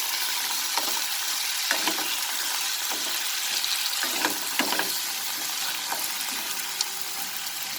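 Potatoes frying in a pan for matar ghugni, a dense continuous sizzle with occasional stirring clicks and scrapes, steady and close.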